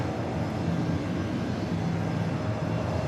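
An airliner at New York's JFK airport roars with a steady, broad engine rumble, loud and sustained throughout with no pauses and no talking.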